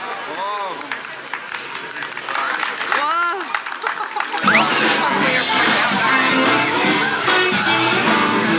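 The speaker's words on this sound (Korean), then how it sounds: "빨리 박수 쳐 와." A crowd of onlookers at a lively weekend outdoor show in Toronto bursts into loud, sustained clapping after some excited voices and cheers, the applause filling the rest of the moment.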